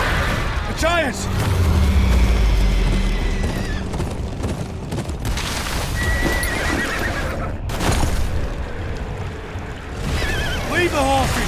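Horses in the video game Game of Thrones: Kingsroad, whinnying sharply several times over hoofbeats, rushing water and battle noise, loud and close, with voices shouting in between.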